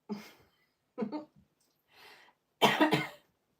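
Four separate coughs come close and fairly loud at irregular intervals. The last is the strongest, a double hack, and quieter throat noises fall between them.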